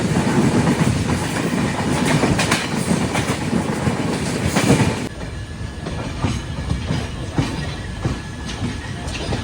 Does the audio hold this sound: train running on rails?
yes